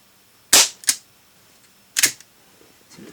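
Two sharp pops from a Crosman air pistol firing dome pellets, close and loud, each followed by a quick metallic snap, then quiet.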